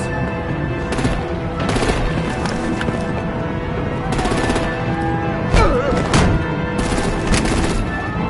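Rapid gunfire from artillery in a Batman video game, steady bursts of shots layered over a dense, busy game soundtrack, with a few heavier blasts near the middle.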